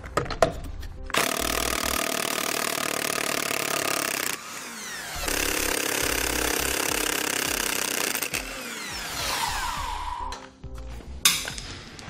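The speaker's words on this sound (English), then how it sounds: "I'm just going to take an impact, or you can even use a large wrench and remove all of our lug nuts" An impact wrench takes the lug nuts off a trailer wheel on a Dexter hub and drum assembly, two long loud buzzing runs of several seconds each with brief pauses and a short final burst, close up and without speech.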